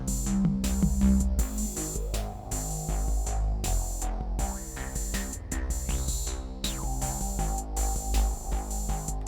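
Music with added pitch resonances imitating distorted hearing, sustained ringing tones layered over the track and shifting in pitch, steady and moderately loud throughout with no voices.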